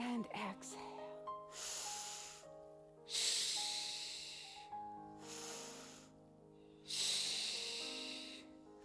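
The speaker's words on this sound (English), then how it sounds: "This is about breath. Inhale and exhale." Slow, deliberate yoga breathing: four long, airy, hissing breaths spaced several seconds apart, set over a soft sustained tonal background.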